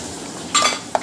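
Spiced yogurt being beaten for a meat marinade in a home kitchen, giving a short burst of scraping, clinking strokes against the bowl, then a single sharp tap, all close and with no talk.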